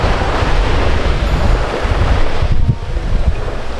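Sea waves wash onto a beach beside a tent in a loud, continuous surging roar, buffeted by gusting wind on the microphone, with no talking.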